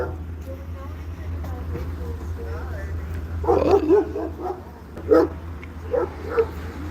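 Dog barking during a police visit at a home, several short barks in bursts from mid-distance over a steady low hum, with people talking nearby.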